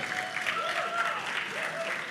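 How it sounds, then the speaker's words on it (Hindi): Applause for a composer at a song launch event, a dense wash of crowd clapping heard at moderate distance, with a faint musical tone gliding through the background. "एक बार जोरदार तालियां प्लीज।"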